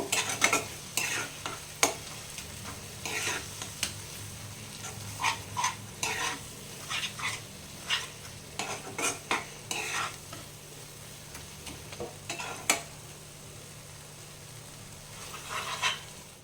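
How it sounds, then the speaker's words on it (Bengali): Ground mustard and poppy seed paste gets stirred in a frying pan for a small-fish curry, with repeated uneven scraping strokes and clatters of the spoon over a low background sizzle. "সরিষা পোস্তটা দিয়ে আমি ভালোভাবে একটু নাড়াচাড়া করব"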